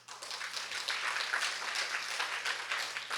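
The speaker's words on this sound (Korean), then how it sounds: "박수 한번 쳐주세요." Congregation at a multi-ethnic church applauding a young baseball pitcher, a steady dense clatter of many hands clapping together, fairly loud and sustained throughout with no talk over it.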